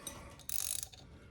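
A chain breaker tool presses a rivet out of an Africa Twin motorcycle chain, giving one short, loud creaking, grinding mechanical burst of under half a second between quieter handling noises.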